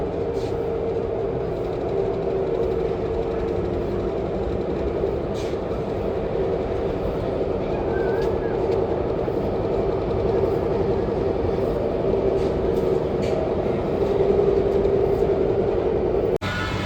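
A Namo Bharat RRTS train running at high speed near Ghaziabad, a steady loud rolling roar with a sustained hum and faint high whine throughout.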